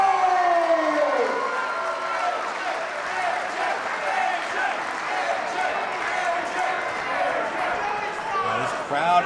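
Crowd ovation at the former ECW Arena in South Philadelphia for a pro wrestler's entrance: sustained applause and cheering throughout, with a fading siren-like tone at the start and someone talking over it.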